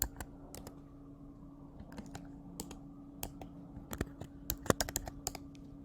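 Keys tap on a computer keyboard in a quiet room, a steady run of light clicks that turns brisker and louder near the end.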